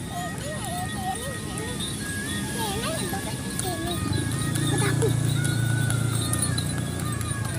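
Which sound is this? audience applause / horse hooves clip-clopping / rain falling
horse hooves clip-clopping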